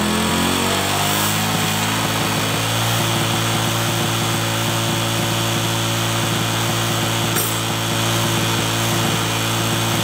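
A Honda Karisma motorcycle engine held at raised revs during carburettor adjustment, a loud, steady, close-up droning hum that stays continuous throughout.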